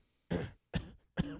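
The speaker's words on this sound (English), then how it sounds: "I have like a little permanent cough yeah. from growing up with smokers" Three separate coughs from an adult with a mild chronic cough, each a sharp, close burst followed by a short rough tail, spaced evenly with brief silences between.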